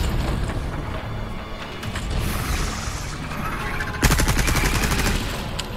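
Rapid bursts of gunfire from the video game Separate Ways ring out over a dense, loud mechanical din, with a harder, sharper volley of shots breaking in near the end.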